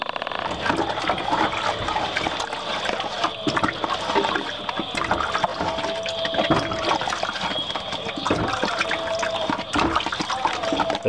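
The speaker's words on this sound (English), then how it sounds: "I'll wash this out" Tap water runs steadily while a dish that held meat and margarine is rinsed out, a close, continuous splashing flow with rattling and clinks of the dish under the stream, no voices.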